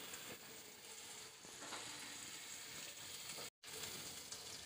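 Garlic and ginger paste fries in a pan for pav bhaji, giving a steady close sizzle with faint stirring scrapes and a brief dropout near the end, no talk.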